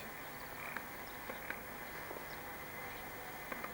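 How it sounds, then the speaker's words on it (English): Frogs croaking at night by the hundreds, a faint dense chorus of overlapping chirps and clicks forming a steady background din with occasional sharper calls, no voices. "the noise of the frogs at night is like cicadas in the spring at home, with the crescendo of sound"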